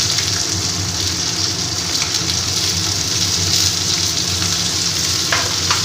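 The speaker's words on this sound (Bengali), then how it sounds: "প্রথমে আমি এই আলুটাকে দিয়ে দেবো" Potatoes fry in a pan for a vegetarian kalmi shaak chorchori, giving a loud, continuous close sizzle like heavy rain with occasional stirring scrapes and no talking.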